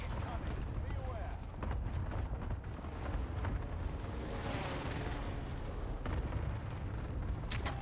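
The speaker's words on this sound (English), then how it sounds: "Enemy allied precision airstrike incoming." Cluster airstrike explosions in a first-person shooter video game, a rolling series of booming blasts and crackling impacts under continuous game audio, with a sharp burst near the end.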